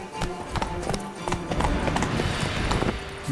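Hooves of Roach, the horse in The Witcher 3 video game, clip-clop in a rapid galloping rhythm for a few seconds, loud and close, over a busy in-game background.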